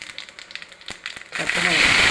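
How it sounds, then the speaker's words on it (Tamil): Cinnamon, clove, fennel and cumin drop into hot oil and burst into a loud, close sizzle that continues steadily after a few soft crackles and a voice in the opening moments. "இப்போ எண்ணெயில் போட்டுருவோம். பட்டை, லவங்கம், சோம்பு, சீரகம்."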